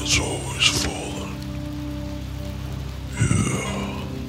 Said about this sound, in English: Still, the rain has always fallen.